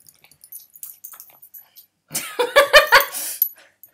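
Dogs yipping and barking in a short, loud burst of several overlapping yelps, close by, following a stretch of faint scattered clicks.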